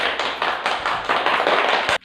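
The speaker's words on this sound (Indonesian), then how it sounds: "Berikan tepuk tangan untuk kelompok" Classroom applause for a student group, a short burst of close, uneven hand clapping from a small group of students that cuts off abruptly at the end.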